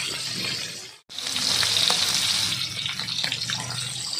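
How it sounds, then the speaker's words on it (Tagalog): Tortillo fish frying in a pan, a loud, steady crackling sizzle that cuts out for a moment, then resumes strong and continuous, with no talking. "Piprito na natin guys."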